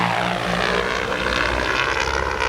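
An XAG agricultural drone flies close by while spreading fertiliser, its propellers producing a steady, loud, dense whirring buzz without pause.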